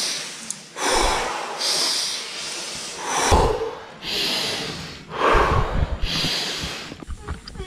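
Rhythmic, forceful breathing during a Wim Hof style exercise: a series of deep, hissing inhales and exhales about a second apart, close to the microphone, with several people breathing together.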